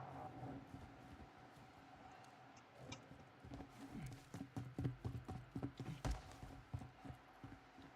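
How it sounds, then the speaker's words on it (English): Footsteps in a survival video game, rendered as a run of irregular, fairly loud thuds and clops in the second half, over steady low background hum. "Thought we just heard footsteps somewhere."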